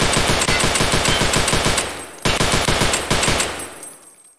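SVD rifle fire in Escape From Tarkov, a fast, loud string of evenly spaced shots that pauses briefly, resumes, then trails off into a fading echo.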